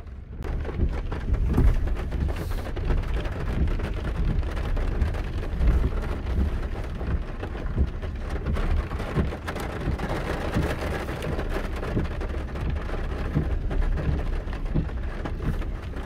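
A steady rainstorm with thunder over hilly country along a mountain road, a constant dense hiss of rain with low rumbling underneath, unbroken and fairly loud throughout.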